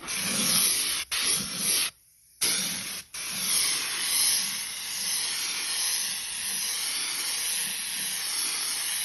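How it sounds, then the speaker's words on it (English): A loud continuous spray of U-Pol Raptor protective coating hisses in long bursts onto a car's underbody, cutting off briefly a few times before resuming steadily, with no voices. "U-Pole's Raptor is a product that you spray underneath a car or underneath a truck"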